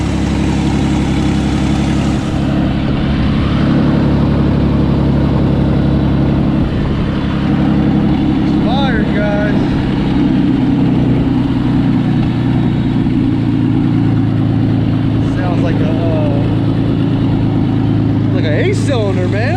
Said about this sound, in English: So we hear that exhaust